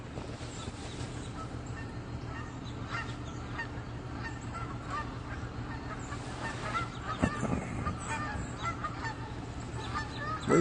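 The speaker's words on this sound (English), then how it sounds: "We got geese flying over." A flock of geese honks repeatedly while flying over and landing on water, over a steady low background rumble, the calls growing denser and louder toward the end.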